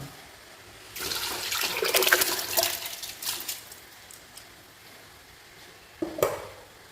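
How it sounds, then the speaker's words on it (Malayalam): Rice poured into a pot of water for kabsa, a soft watery splash and rustle lasting a few seconds, then quiet, followed by a brief second splash. "അപ്പോൾ നമ്മളിനി ഇതിൽ അരി ഇട്ട് കൊടുക്കുകയാണ്"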